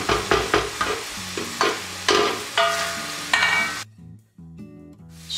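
Minced meat sizzles and is stirred in a pan, with repeated scraping strokes over a soft frying hiss. The sound is close and moderately quiet, then stops briefly before the stirring resumes.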